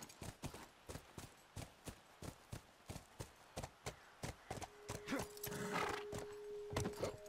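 Steady clip-clop of horse hooves in the video game The Last of Us Remastered, regular and fairly close, with a whinny near the end over a rising wind-like rush.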